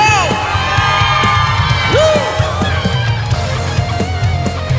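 Excited audience of trainees screaming, whooping and cheering loudly and continuously, a dense crowd roar with shrill yells rising above it, likely in a studio setting.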